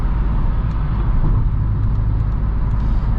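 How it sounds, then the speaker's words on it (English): Steady road noise inside a moving 2022 Hyundai Kona N SUV on the road, a loud continuous low rumble and roar from tires and pavement filling the cabin without a break. "there is a good amount of road noise"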